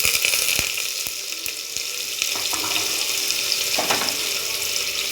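Onion frying in hot oil with curry leaves in a pan, a steady bright hiss and crackle throughout, with occasional sharp pops and clinks of stirring, close and fairly loud with no voices.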